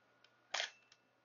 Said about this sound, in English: when you hear the clicking of the shutter, it is that mirror being raised